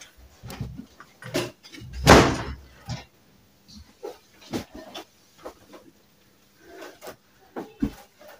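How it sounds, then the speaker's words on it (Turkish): Bedroom door being shut in a home: a loud wooden thump stands out among several lighter knocks and clatters spread over the span, with quiet gaps between. "Kapıyı kapatsana."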